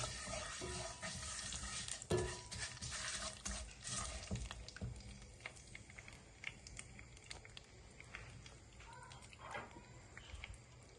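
Vermicelli toasts in hot oil in a pot for Turkish rice pilaf, giving a soft, steady sizzle with scattered light clicks and scrapes of stirring, louder at first and then easing.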